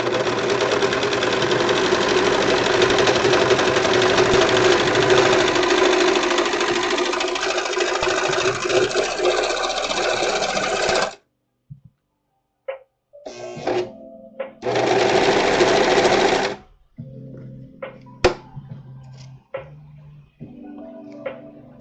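Sewing machine stitching fabric for a symbiote suit runs loud and steady for about eleven seconds, then stops and restarts in a short burst among scattered clicks and handling noises.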